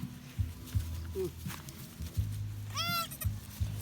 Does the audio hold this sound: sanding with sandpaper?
no